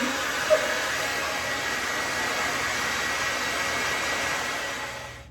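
A hair dryer blows on natural hair with a loud, steady whooshing roar that holds for several seconds, alone without any talking, then winds down slightly at the end.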